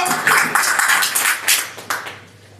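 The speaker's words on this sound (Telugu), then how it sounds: "గట్టిగా చప్పట్లు కొట్టి దేవుని మహిమపరచుదాం" A church congregation claps loudly together, producing a dense, fast rush of many hands in an echoing hall that thins into scattered claps and fades.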